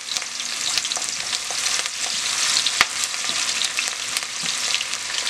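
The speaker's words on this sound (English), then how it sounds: "I put some oil and it's hot. I'm going to put my onion." Onion and habanero pepper fry in hot oil, giving a continuous bright crackling sizzle with scattered pops and a few stirring knocks, fairly close and with no talking.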